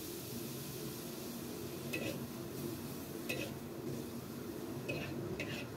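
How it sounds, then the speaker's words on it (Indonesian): Mushrooms sautéing in a pan give a steady, soft sizzle, with a few brief utensil scrapes and taps against the pan at intervals. "makanya kita tumis di awal. Tumis cukup 1-2 menit aja."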